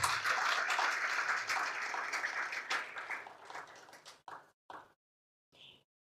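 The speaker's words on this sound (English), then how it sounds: "Another round of applause." Audience applause at a Kenya–United Kingdom health partnership conference: a dense, steady wash of clapping for about four seconds, then thinning to a few scattered claps and silence.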